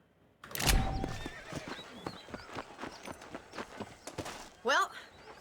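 In Red Dead Redemption a horse lets out a loud close whinny, then its hooves clop in a steady walking rhythm, with a second shorter whinny near the end. Speech runs alongside.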